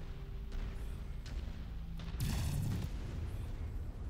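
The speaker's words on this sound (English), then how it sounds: "We do have some artillery here." Artillery shells booming in the MechWarrior 5 video game, a few dull distant thuds followed by one heavier blast rumbling over a low steady background drone, with no talk.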